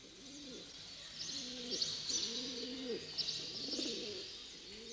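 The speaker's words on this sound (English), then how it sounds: "pigeons and doves nestled, waiting for opportunities to swoop down and pick on the grains" Pigeons and doves cooing on a marble floor, soft repeated rolling coos in a steady rhythm, fairly faint with a hissy background.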